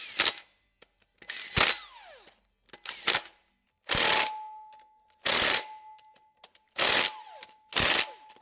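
Milwaukee ratchet tightening Loctite-coated bolts, a loud close burst of rapid pawl clicks repeated seven times in quick strokes with short silent gaps between them.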